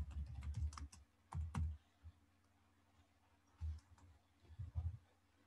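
Bursts of typing on a computer keyboard while working in 3ds Max, with clustered clicking keystrokes in three or four short runs separated by quiet pauses, close and fairly faint with no talking.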